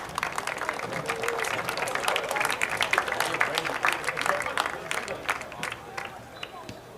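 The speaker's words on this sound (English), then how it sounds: "Kids, why don't you give your parents a round of applause?" A crowd at a high school soccer senior night applauding the seniors' parents, dense scattered clapping from a distance with cheering and chatter underneath, steady for several seconds.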